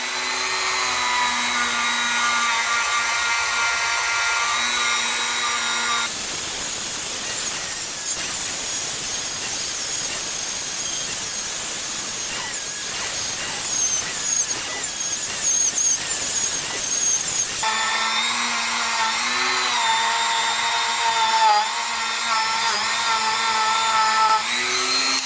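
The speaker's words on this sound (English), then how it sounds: "Just using a little wire wheel on the Dremel." Small wire wheel on a Dremel rotary tool polishing a quad engine cylinder head, a high whining motor with scratchy grinding bursts that roughen and vary as the wheel bites the metal, loud and close.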